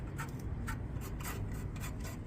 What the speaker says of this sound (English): I'm going to grind this down real good